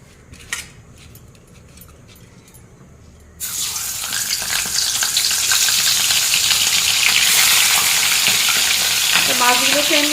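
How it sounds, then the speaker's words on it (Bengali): Fish pieces drop into hot oil and a loud, dense sizzle bursts up after a quiet start, growing steadily fuller and crackling close by, with no talk. "তা আমি একে একে মাছগুলো দিয়ে ভেজে নেব।"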